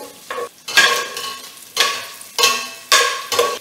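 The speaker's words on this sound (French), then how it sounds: "je continue à remuer mes lardons" Lardons frying in a pan while being stirred, making loud bursts of sizzle and scraping in several repeated strokes, with brief quieter gaps between, close and clear.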